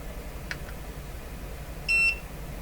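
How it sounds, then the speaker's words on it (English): A KSGER T12 soldering station gives a single short electronic ready beep near the end, clear and high over a quiet background hum. "That beep is saying I'm there now."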